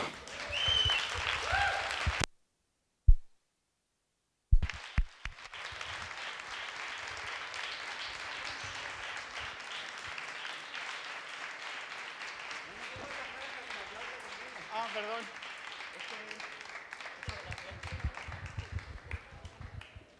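A crowd breaks into sustained, dense applause that carries on steadily for many seconds, with a few sharp taps and a brief silence before it starts.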